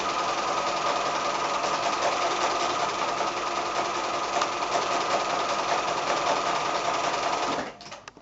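A sewing machine zigzag stitching along a pillowcase seam runs in a loud, steady, close mechanical whir that stops abruptly near the end.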